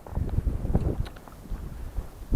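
Strong, gusty wind during a July fishing outing, heard as low rumbling buffets against the microphone that rise and fall unevenly, with no talking.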